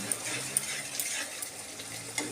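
Oil goes into a hot wok-style pan and sizzles faintly, with a soft steady hiss and a few small ticks and pops rising through it.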